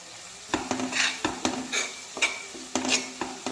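Chili powder and ginger-garlic sauté in a pan for an oyster mushroom dish, heard as a soft sizzle under repeated sharp taps and scrapes of a spoon against the pan.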